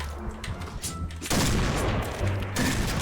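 Rapid sniper fire rings out in the online shooter Point Blank, with loud gunshots in quick succession over continuous game noise. The shots grow denser and more intense in the second half.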